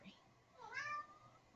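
A house cat gives a single drawn-out meow that rises and falls, faint and close, over a quiet room background with no other sounds.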